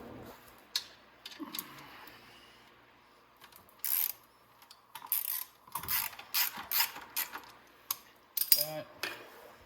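A ratchet wrench loosens a bolt on the gas tank of a Venom 110cc Mini Madix ATV, giving several bursts of sharp, close clicking with pauses between strokes.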